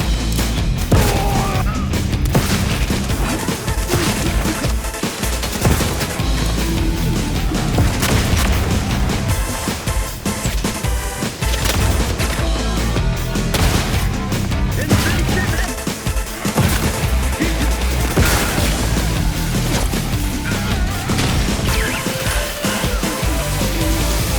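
Grenade blasts and gunfire in The Outer Worlds 2, a dense, loud, continuous barrage of booming explosions and crashes layered with game music and effects, with no pauses throughout.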